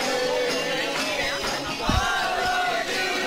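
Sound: crowd cheering at football match at Broadbeach

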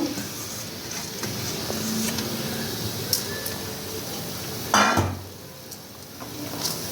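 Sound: washed lentils (dal) being fried in spices in a pan

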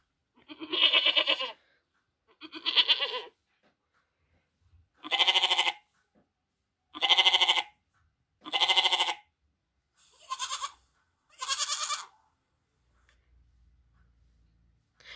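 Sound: goat bleating

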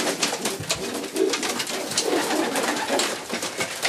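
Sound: racing pigeon cooing

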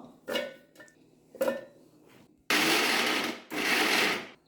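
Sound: mixer grinder coarsely grinding shallots

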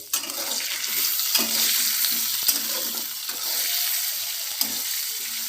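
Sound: potatoes frying in pan

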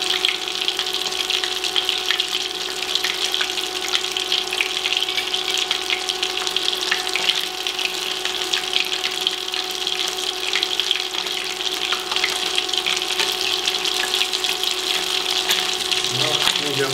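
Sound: breaded cheese cubes frying in oil

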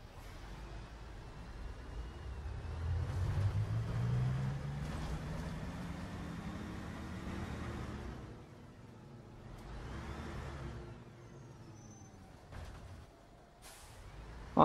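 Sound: bus engine revving in OMSI 2 bus simulator video game

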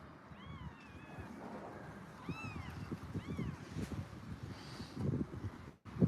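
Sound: orphaned kittens meowing

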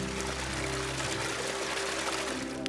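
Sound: water flowing from a trail water source

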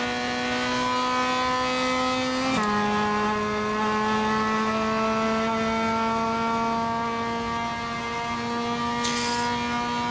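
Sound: race car engine at high revs in Assetto Corsa video game

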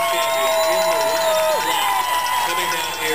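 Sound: Boston Marathon spectators cheering at the finish

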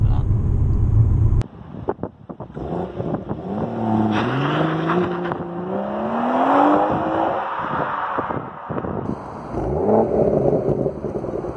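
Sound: BMW M140i car engine and exhaust note

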